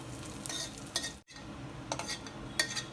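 A metal spoon scrapes and clinks in a pan as fried dried prawns are scooped out into a bowl, a series of close scraping strokes with a faint sizzle and a brief pause midway.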